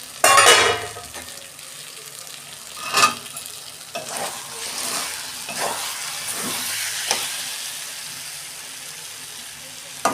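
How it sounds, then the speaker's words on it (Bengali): A pot lid comes off spinach cooking covered over a low gas flame with a soft sizzle and stirring, beginning with a loud clatter and continuing as a steady frying hiss with a few light utensil knocks. "ঢাকনা খুলছি"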